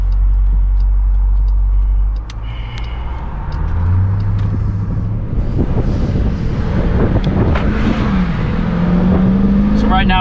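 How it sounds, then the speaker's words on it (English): 2020 Dodge Durango SRT on the move, a low engine drone and road rumble mixed with heavy wind buffeting, with a rising rev swell toward the end; a person talks over it at times. "we are setting off in the SRT Durango"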